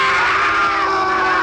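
People scream together in the film Plan 9 from Outer Space, a loud, sustained and continuous burst of high-pitched shrieking that holds steady for over a second, with no talking.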